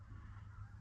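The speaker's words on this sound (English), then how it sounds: "I just see some geese up there." Geese honk high overhead in the open Alberta countryside during a duck hunt, a faint, distant call over steady wind and low background rumble.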